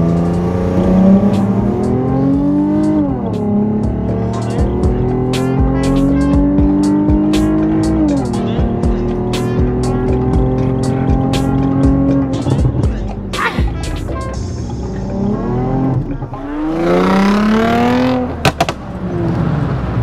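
A tuned Toyota Crown pulls hard through the gears, its engine rising and falling in repeated loud climbs with clicks and road noise, heard from inside the car.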